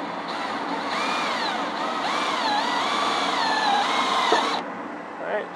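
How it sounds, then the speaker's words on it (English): A power drill drives a self-tapping screw into metal while a relay is mounted beside the coolant tank of a John Deere Gator UTV. A steady, close motor whine rises and falls in pitch for about four seconds, then cuts off. "let's see if we can get one of these self-tappers here to sink through the metal"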